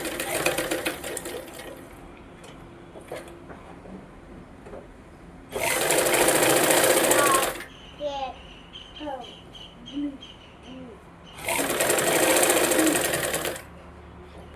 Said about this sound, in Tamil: இப்போ இன்னொரு வாட்டி இது மேலேயே தையல் போட்டுக்கலாம்